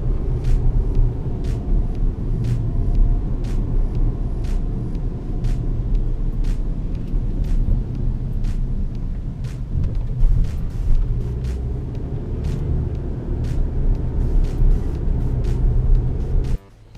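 A Proton X70 SUV fitted with Trestor Metallic Plus brake pads cruising at moderate speed on a road, giving a steady, loud low engine and road rumble throughout with faint ticking, and no voices.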